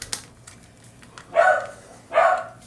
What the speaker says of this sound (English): Sorry if you guys hear my dog barking in the background